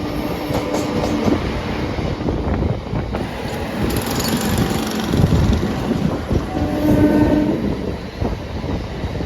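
An Indian Railways local train runs on the Bally to Asansol line through dusty coal country near Andal. A continuous loud rumble and rattle of the carriages carries rhythmic track clatter throughout.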